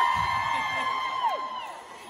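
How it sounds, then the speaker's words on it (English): Crowd at a fan convention panel for New Kids on the Block, screaming and cheering steadily through a continuous wash of voices, with one sustained high scream standing out above the roar. "Please scream."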